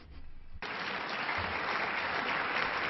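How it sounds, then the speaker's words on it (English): Sudden burst of loud audience applause at a lecture hall, starting after a brief moment of quieter room sound and holding as a dense, sustained roar of clapping. "Thank you for the applause."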